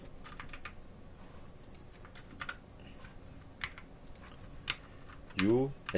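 A code being typed on a computer keyboard: a run of light, irregular key clicks at moderate volume over a low background hum, ending with a brief rising electronic chirp.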